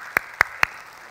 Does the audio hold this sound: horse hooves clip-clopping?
no